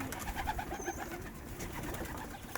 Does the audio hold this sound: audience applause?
no